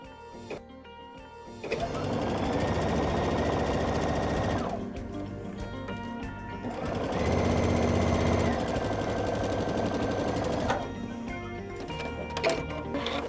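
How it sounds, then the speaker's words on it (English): A sewing machine stitches fabric for a charm pillow in two sustained runs of rapid mechanical chattering, each lasting a few seconds, separated by a quiet pause with light handling noises. "And then we will finish sewing across that line."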